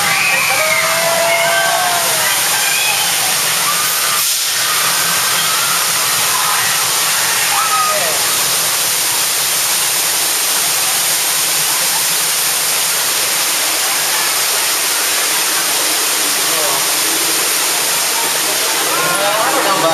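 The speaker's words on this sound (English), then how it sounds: "I think a water main is burst over on your right" Staged burst water main flood on a Universal Studios Hollywood studio tour, a loud continuous roar of gushing water heard close, with crowd voices mixed beneath it.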